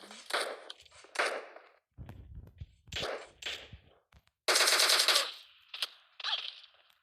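Gunfire rings out in a video game: several short, sharp bursts of shots, loud and near, separated by brief gaps, with thuddy impacts between them.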